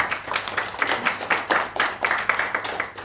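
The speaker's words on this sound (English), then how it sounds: "Who told you to clap?" Audience at a metabolomics workshop closing ceremony clapping, a lively, uneven patter of many hands with rhythmic surges, fairly close and sustained for several seconds with no talk over it.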